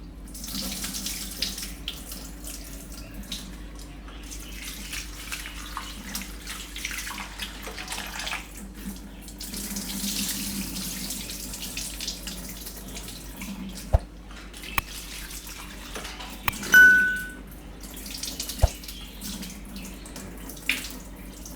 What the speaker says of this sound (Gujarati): તો આને આપણે 2 થી 3 પાણીએ એકદમ ધોઈ નાખીશું.